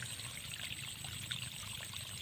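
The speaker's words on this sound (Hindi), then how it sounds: "यहाँ पे ना जो पाइप से पानी जा रहा है, बोर से आ रहा है।" Water from a borewell pipe trickles and splashes steadily into a paddy field, a soft, continuous, fairly faint flow with no voices.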